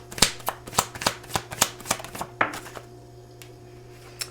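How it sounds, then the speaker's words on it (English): Tarot cards are shuffled in a quick run of about nine sharp riffling snaps, followed by a softer slide as a card is drawn, close and clear over a faint background hum. "Let's grab another card."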